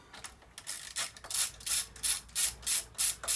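Tightening exhaust bolts on an AJS Modena 125 motorcycle with a ratchet, a run of quick, evenly spaced clicking strokes, close and fairly loud, with no talk.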